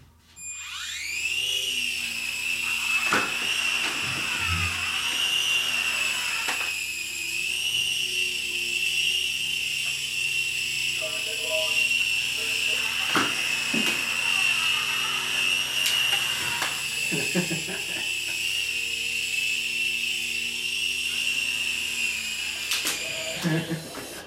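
A small motor whines at a high, steady pitch for a long stretch, from a flying Air Hogs remote-control toy helicopter, with people talking briefly over it.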